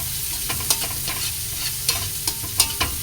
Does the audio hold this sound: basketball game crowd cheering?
no